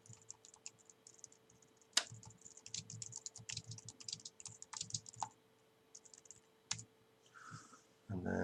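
Computer keyboard typing while entering a blog title, quick uneven bursts of soft key clicks with short pauses, one sharper louder click near the start, close and fairly quiet.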